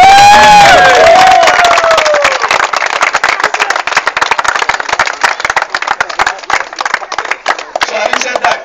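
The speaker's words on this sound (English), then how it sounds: "can we have a clap for all of us" At a corporate cricket trophy event, a crowd erupts in cheering and whistles that fade after a couple of seconds into lively, uneven clapping from many hands, with scattered shouts and voices mixed in.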